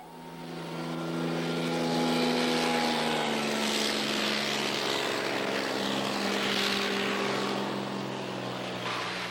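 A float plane's propeller engine drones steadily and loudly at Brooks Camp in Katmai, Alaska, with a smooth, sustained roar that swells and then holds for the whole stretch, no voices present.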